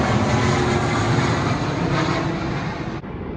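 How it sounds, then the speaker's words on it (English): An airplane passes overhead outdoors next to a portable electric pellet grill, a loud steady broadband roar filling the whole stretch and easing off slightly toward the end, with no one speaking. "that's another airplane"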